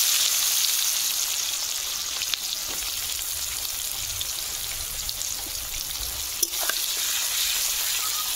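Chopped onions frying in oil after whole garam masala and bay leaf tempering, a steady dense sizzle with light stirring scrapes and a couple of sharp clicks.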